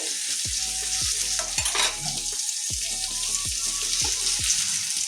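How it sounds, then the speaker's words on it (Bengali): Eggplant sizzles steadily in hot mustard oil in a pan. A spatula stirs it in regular strokes, with bright spattering throughout and no talk. "বেগুনটা আমার অনেকটাই ভাজা হয়ে গেছে।"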